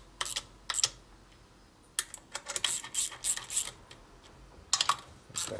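Bolts on a 1992 Harley-Davidson 80ci Evo motor case are tightened with a hand tool, giving sharp close metallic clicks and ratcheting taps in scattered clusters with short quiet gaps.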